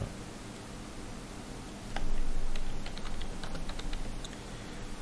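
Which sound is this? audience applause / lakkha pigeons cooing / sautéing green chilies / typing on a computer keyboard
typing on a computer keyboard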